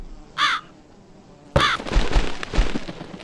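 Crow caws in the horror video game The Cat Lady: one short caw, a pause, then a louder harsh caw followed by rustling flapping as the bird flies off.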